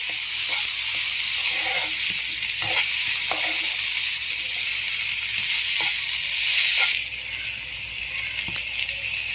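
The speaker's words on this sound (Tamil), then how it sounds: "உருளைக்கிழங்கு நம்ம சின்ன சின்னதாக கட் பண்ணியிருக்கதால சீக்கிரமாகவே வெந்துடும்." Small-cut potatoes fry in hot oil in a pan with a steady loud sizzle, broken by occasional scraping stirs, the hiss easing slightly near the end.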